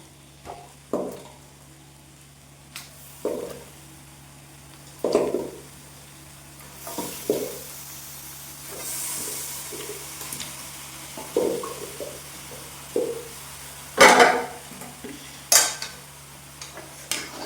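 Chicken cooking in curry masala in a pan, with intermittent clinks and scrapes of a spoon stirring against metal and a faint sizzle underneath, the knocks coming every second or two.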